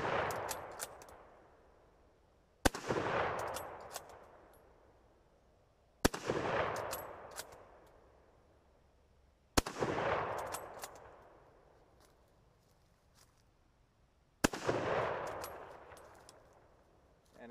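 A military surplus rifle firing 8mm Mauser surplus ammunition outdoors: five loud, sharp shots spaced a few seconds apart, each followed by a long rolling echo that fades before the next round.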